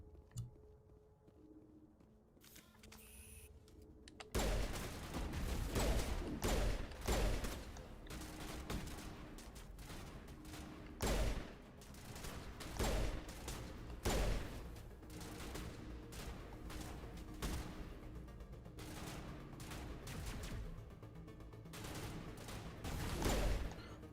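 Sustained gunfire in Mass Effect combat, starting after a few quiet seconds, then rapid sharp shots in repeated bursts, loud and close, with no talk.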